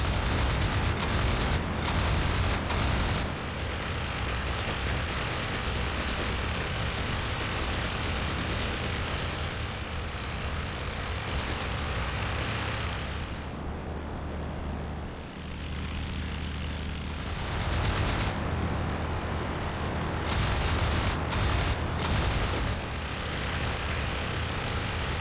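Fixed-wing aircraft engines droning loudly and continuously in World War I aerial combat, with bursts of rapid machine-gun fire cutting in at intervals over the roar.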